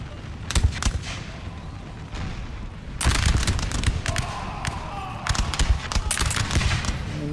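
Musket volleys in a Napoleon: Total War battle, irregular bursts of sharp crackling shots, some in dense clusters, over a rumbling battlefield background.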